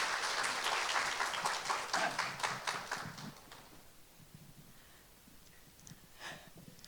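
Applause from a gathered audience at a Korean school end-of-semester gathering, a brief burst of clapping that swells early and then trails off into a quiet room.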